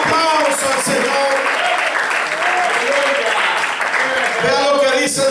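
A church congregation applauds the Lord, dense clapping sustained throughout at close range, with a preacher's voice and shouts carrying over the applause.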